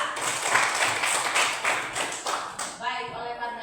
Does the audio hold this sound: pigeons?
no